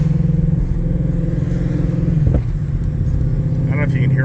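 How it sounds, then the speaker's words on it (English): Ford Mustang GT500 engine at a low, throaty idle-to-light-throttle rumble, loud and close, dipping briefly mid-way before settling again, with faint higher sounds toward the end. "That was just me touching the gas pedal."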